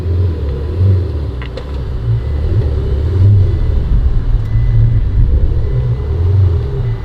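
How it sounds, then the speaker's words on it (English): A Lamborghini Huracan rear-wheel-drive coupe rolls down the road with a loud, steady low engine rumble that swells slightly as it approaches, heard close by. "We got a Huracan coming down."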